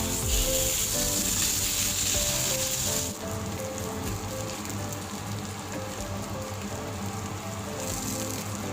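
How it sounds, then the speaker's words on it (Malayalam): Pomfret fish frying in a pan, a steady dense sizzle and crackle of hot oil running throughout, fairly close and continuous, with a faint background hum and no talk. "മീൻ വറുത്തത് റെഡിയായി."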